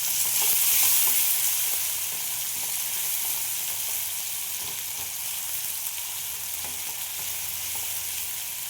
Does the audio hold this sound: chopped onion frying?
yes